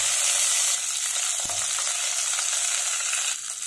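Green chillies and curry leaves tempering in oil in a pressure cooker, a loud, close, continuous sizzle with faint stirring clinks, easing slightly toward the end, no voices.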